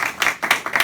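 A small audience at a Mexican horror-cinema talk claps briefly, a short burst of a few near, distinct hand claps with no talk over them.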